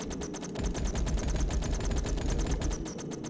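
Rapid automatic gunfire from a defensive turret blasting at large bugs in the game FortressCraft Evolved, a dense, steady stream of shots rattling on loudly without pause.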